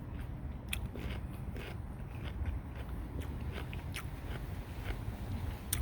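Crunchy bites and chewing of a Thai jumbo wax jambu fruit, with steady close mouth sounds and small crackles over a low background rumble in Southern California.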